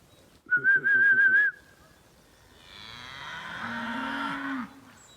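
A steady, sustained whistle is followed by a cow's long, low moo in an open grazing pasture, fairly close and clear, with no talking.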